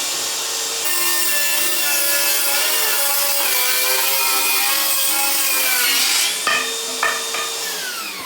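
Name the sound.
DeWalt FlexVolt 60 volt table saw cutting chunk of wood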